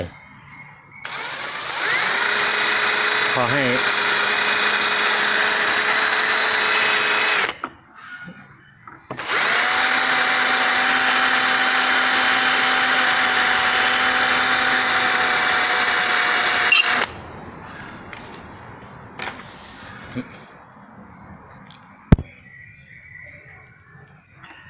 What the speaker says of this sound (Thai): เราก็ใช้สว่าน